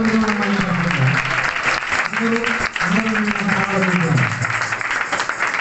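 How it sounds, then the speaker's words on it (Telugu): A church congregation claps together after prayer, a dense, continuous round of applause with voices mixed in. "చప్పట్లు కొట్టి"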